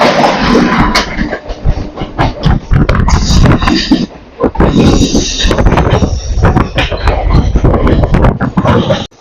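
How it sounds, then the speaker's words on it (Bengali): An express train running between Hatia and Howrah rumbles past on the adjacent line, a loud, continuous roar of wheels and clattering coaches with rapid rhythmic clicks, close by near Ramrajatala station. "সামনে থেকে আসছে হাতিয়া হাওড়া কিয়া যোগা এক্সপ্রেস"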